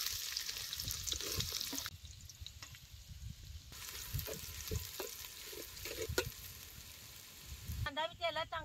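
Finely chopped onion fries in hot oil with cumin, sizzling close up with spoon scrapes and stirring knocks against the pan and a brief quieter gap in the middle, while a voice speaks faintly at times.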